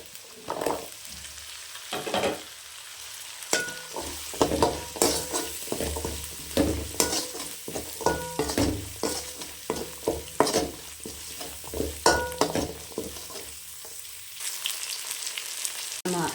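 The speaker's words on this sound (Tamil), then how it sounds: "கருவேப்பிலை தலை சேர்த்துக்கோங்க சின்ன வெங்காயம் சேர்த்துக்கோங்க" Curry leaves and shallots fry in hot oil for a mutton curry, a steady sizzle broken by repeated stirring and scraping that clicks along in an uneven rhythm, close and clear with no talk.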